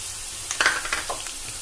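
Peanuts frying in oil with green chilli and garlic on a low gas flame, a close sizzle with a few quick stirring scrapes and crackles, short and without voices.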